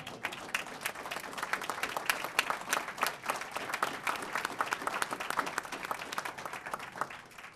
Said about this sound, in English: So now I'm going to take a breath so you could